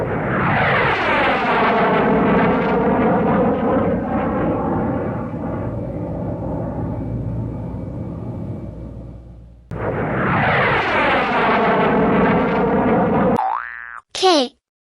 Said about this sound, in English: J for jet